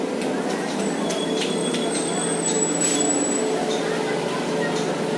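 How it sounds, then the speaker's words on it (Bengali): A train rumbles steadily beneath a footbridge or overpass at a station on the Dankuni–Sealdah line, a continuous low roar with faint squeals running through, while a voice talks over it. "দেখ দেখ তোর নিচে ট্রেন।"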